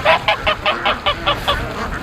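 Geese honking on a lake, a quick loud series of about nine nasal honks in a steady rhythm, close by and with no talk over them.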